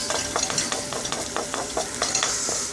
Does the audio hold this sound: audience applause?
no